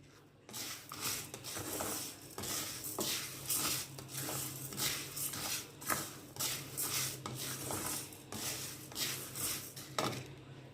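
Steady scraping and clinking of a spoon stirring lentils as they dry-roast in a pan for Bellam Sunnundalu, rhythmic strokes repeating close and moderately loud for several seconds without talk.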